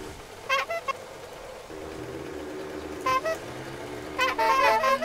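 Minibike horn in the survival game 7 Days to Die honks in three short harmonic bursts spread over a few seconds, over a steady low engine drone.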